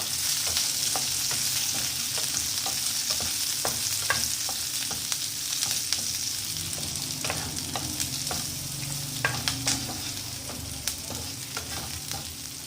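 Egg 65 frying with curry leaves and red chilli in a pan, a dense steady sizzle with scattered crackles and the clicks of stirring, close and with no talking.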